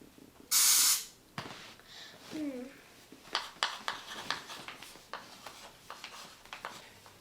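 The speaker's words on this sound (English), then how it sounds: "And it is air spraying." Short burst of air spraying, a loud hissing puff about half a second long, followed by quieter tapping and handling noises and brief voices in a family guessing game.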